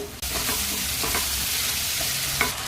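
Mashed brinjal bharit with coarsely crushed peanuts sautés in a hot pan, a steady close sizzle broken by repeated scraping stirs of a spatula.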